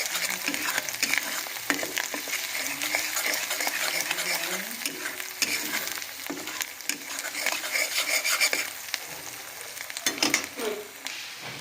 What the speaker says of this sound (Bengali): হলদি গুঁড়ো দিয়ে আরও 2 মিনিট এটাকে ভাজা করে নেব।